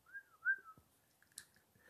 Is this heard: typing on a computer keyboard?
no